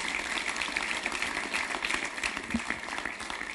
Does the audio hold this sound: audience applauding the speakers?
yes